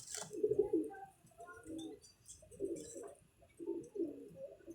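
A pair of pigeons sits inside a loft, giving soft, close, rhythmic cooing in repeated low bursts, with faint chirps in the background.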